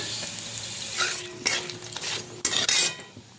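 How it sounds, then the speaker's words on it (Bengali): Two dry chillies, a bay leaf, cumin and asafoetida hit hot mustard oil, making a short, faint sizzle with a few spoon scrapes and clinks on the pan. No voices are heard. "এবার দুটো শুকনো লঙ্কা আর একটা তেজপাতা দিয়ে দিলাম সাদা জিরে দিয়ে দিলাম হিং দিয়ে দিলাম"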